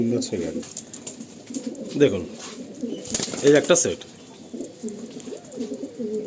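A pair of Andhra pigeons at a loft in Kolkata coo in soft repeated bursts close by, while someone talks over them.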